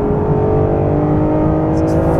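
Close, loud engine roar of a Ferrari 599 GTO accelerating hard, a steady sustained rev building through the gears with no pauses, heard from inside the car.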